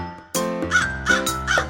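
A crow caws three times in quick succession, loud and close, each call harsh and nasal with short pauses between, alone with no talking.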